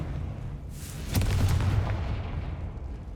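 A Confringo spell detonates in Hogwarts Legacy, a booming fiery explosion that bursts about a second in and rumbles heavily before tailing off into a low roar.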